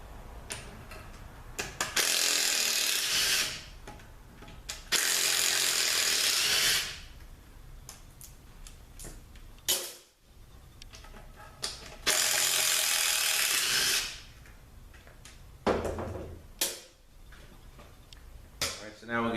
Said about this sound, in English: So let me just pull this pump out.